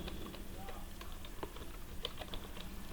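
Someone types google.com on a computer keyboard, a quick run of soft, irregular key clicks against a steady background hum.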